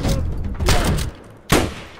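Gunfire in Escape from Tarkov: a few heavy, thudding shots land in separate bursts, with a sharp, loud report near the end, up close and with no talk over it.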